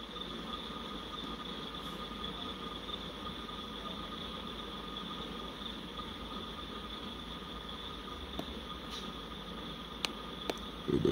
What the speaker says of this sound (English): There goes that train right there.